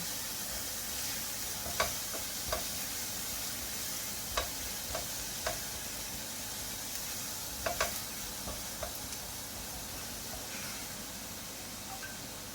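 Beef frying in an Instant Pot, a steady close sizzle running throughout with occasional light taps and scrapes of a silicone spoon stirring the meat.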